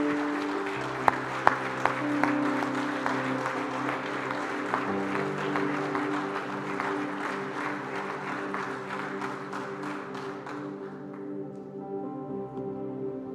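Church congregation clapping rhythmically in unison over sustained worship music, steady beats repeating for several seconds before fading out while the music continues.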